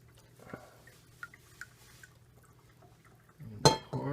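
Unfermented oatmeal stout wort is poured into a glass during homebrewing, starting with a few faint drips and then a short, sudden splashing pour near the end, close up with no talking.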